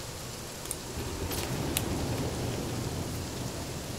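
Continuous hiss of rain falling in The Flame in the Flood video game, even and steady, with a couple of faint brief ticks over the wash.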